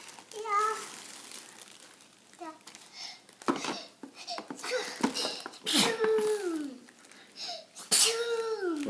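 A child sneezes several times close by amid a cluttered grocery store, with small clattering noises and a young voice babbling between the bursts.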